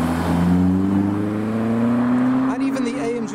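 A Mercedes C-Class with an AMG exhaust drives past at a business-park roundabout, its engine a loud, close, droning growl that rises slightly in pitch and then fades over a few seconds.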